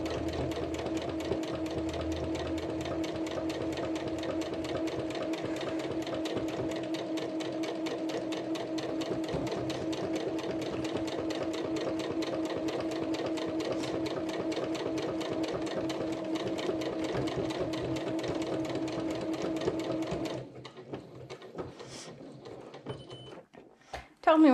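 A sewing machine set to a rounded-end buttonhole stitch runs steadily with a fast mechanical rhythm for about twenty seconds, then stops, leaving a few faint handling clicks.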